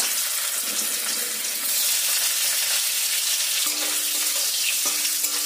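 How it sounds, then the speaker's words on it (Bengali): Paneer cubes dropped into hot white oil in a wok, raising a loud, dense, continuous frying hiss up close, with a couple of faint metallic knocks near the end and no voices. "তেলটা গরম হয়ে গিয়েছে, এবার এতে দিয়ে দেব পনিরগুলো ভেজে আমি তুলে রাখবো"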